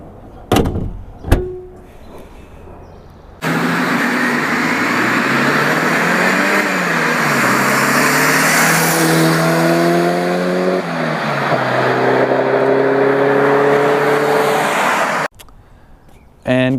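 A Porsche 944 Turbo accelerates hard under boost, its engine roaring loud and close as the pitch climbs and drops through several gear changes, then cuts off abruptly.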